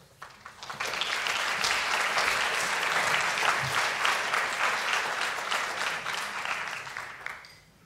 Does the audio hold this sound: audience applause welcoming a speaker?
yes